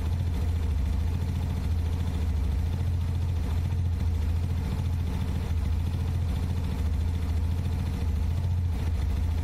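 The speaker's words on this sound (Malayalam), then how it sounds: "അവിടുന്ന് അര ടേൺ ഓപ്പൺ ചെയ്തപ്പോൾ എഞ്ചിൻ ആർ പി എം കൂടി." A 100–125cc motorcycle or scooter engine idles during carburetor tuning, a steady low thrumming putter that holds an even, continuous pace with no talk.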